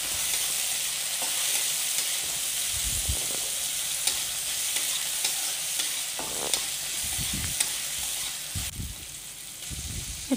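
Chopped onions fry in hot oil after cumin seeds, a steady close sizzle with broadband hiss, broken by occasional stirring clatters and scrapes throughout.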